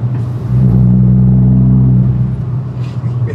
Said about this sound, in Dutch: Vol gas door het dorp hebben.